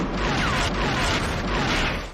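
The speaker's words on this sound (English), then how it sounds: "Minerva's good friend Waldo is hideously blown apart in the explosion." A loud, dense explosion from the film Hudson Hawk, a sustained broadband roar of blast and debris lasting about two seconds, with no speech over it.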